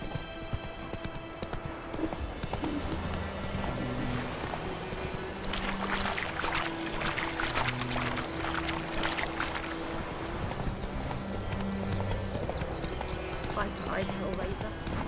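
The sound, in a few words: horse Roach clip-clopping in The Witcher 3 video game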